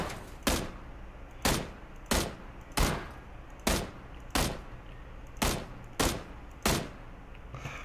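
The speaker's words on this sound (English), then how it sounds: "Someone's shooting me. Where's that shooting from?" Single gunshots in a video game ring out one at a time, about nine evenly spaced loud cracks, each with a short fading tail, with no talking.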